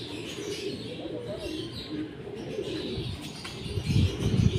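Racing pigeons coo softly amid steady outdoor background noise, with a burst of wing flapping toward the end.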